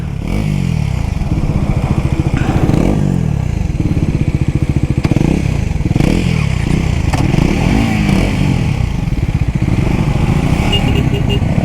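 An NS400z and a Triumph Speed 400 motorcycle race each other in a drag race. Close, loud engine roar drones on throughout, with rising and falling revs through gear changes and some rattling clatter.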